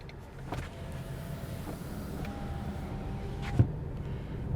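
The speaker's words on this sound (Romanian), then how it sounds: "Până și geamurile se aud foarte, foarte subtil, foarte bine în mașina asta." Power windows on a facelifted Hyundai Tucson glide up and down inside the quiet cabin, with a few soft motor whirs and a small thump as a window seats.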